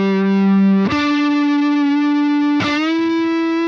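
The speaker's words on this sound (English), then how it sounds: "I have this guitar solo, by the way." Electric guitar solo with a distorted, effects-processed tone, a few long sustained notes that bend and shift pitch, loud and close with no talk.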